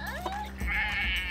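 A Luvabella toy doll plays a sheep bleat, a short wavering animal cry that is loud and close, with a faint voice underneath.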